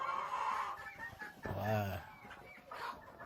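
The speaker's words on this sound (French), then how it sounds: "Regardez-moi ce joli coq." A rooster on a small integrated farm gives a short, loud burst of clucking mid-clip over a quiet outdoor background, with someone speaking briefly before and after.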